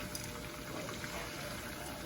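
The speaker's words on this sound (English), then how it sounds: "We've had it frying for 5 minutes." Steady crackling sizzle of food frying in hot oil, a continuous dense hiss with no pauses.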